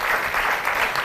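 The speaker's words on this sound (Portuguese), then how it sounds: "E pedimos um aplauso para os nossos convidados." Studio audience applause for guests on the Portuguese morning TV show Queridas Manhãs: a dense, steady wash of clapping that fills the whole short stretch at even loudness, with no voice over it.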